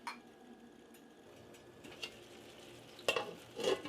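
A flour and water mixture is stirred into a simmering pork stew, soft spoon scrapes and faint sizzling bubbles with a few louder clinks of the utensil against the pot, quiet and close.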